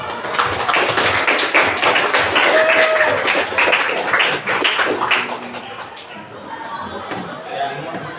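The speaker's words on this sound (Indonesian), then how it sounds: "Ya, tepuk tangan ya Pak." A classroom of students claps together in a dense burst of applause for several seconds, mixed with chatter and voices, before it tapers off into quieter murmuring.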